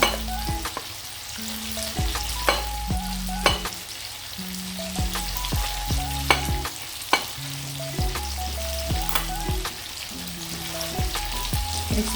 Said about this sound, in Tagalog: Hanggang nagpiprito pa ako